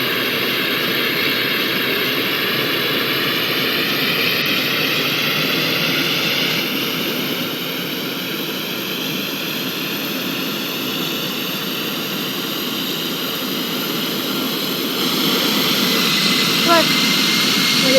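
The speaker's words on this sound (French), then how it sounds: "On décolle." Jet engines of an airliner during takeoff, heard from inside the business class cabin as a loud, steady roar that swells near the end.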